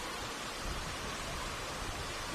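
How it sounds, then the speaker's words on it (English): Heavy rain drives down during a men's NPL football match in New South Wales, a dense, steady hiss that stays loud and unbroken throughout, with no voices over it. "That rain is driving down now."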